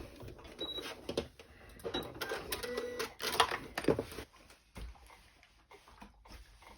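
A sewing machine stitching the sides of a fabric basket, running in uneven bursts with mechanical clatter and short pauses between runs, close and moderately loud.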